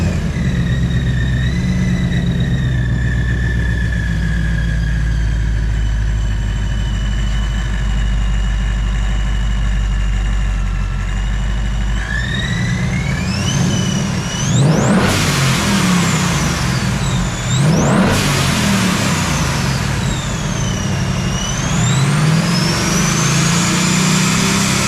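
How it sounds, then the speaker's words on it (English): A supercharged 2022 Ford Mustang GT V8 idles loudly, then revs up hard several times, with sharp hissing blow-off valve bursts after each throttle blip, close and alone without talk. "we're gonna give you a few revs, blow-offs and stuff like that"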